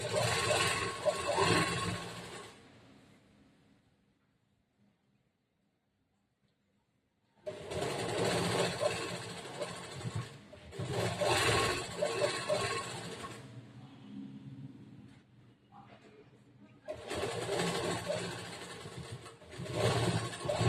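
Sewing machine stitching a princess cut blouse, three close bursts of fast whirring needle chatter separated by a long quiet gap and a short pause, with no talk over the running motor.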